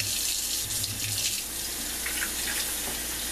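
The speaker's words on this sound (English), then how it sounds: "Just fill a canteen with water." Water pours steadily into a homemade gourd canteen, a constant hissing splash from a tap or pour at close range, with no talking.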